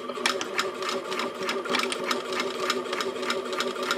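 A sewing machine stitches a dart at stitch length 3.0 on a wristlet pouch, a fast, even rattling chatter of needle strokes running steadily up close and alone.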